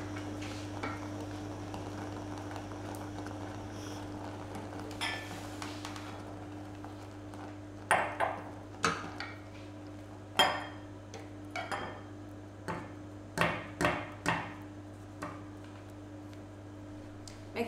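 A spoon scrapes and knocks against a pan while cooked raspberry and rhubarb jam is transferred into a bowl, giving scattered clinks and taps over a low steady hum.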